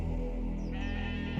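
A goat or ram gives one long, sustained bleat, loud and near, its wavering nasal cry holding steady before breaking off abruptly at the end, heard alone with no talk.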